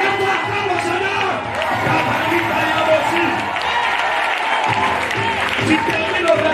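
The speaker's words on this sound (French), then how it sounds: "Lève-toi, acclame le Seigneur." A church congregation cheers and claps in acclaim of the Lord, a dense, steady wash of crowd noise and applause with voices mixed throughout.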